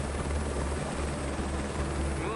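A helicopter in a flight simulator video game drones loudly and steadily, its rotor and engine forming a dense, continuous roar with a low rumble underneath and no break throughout.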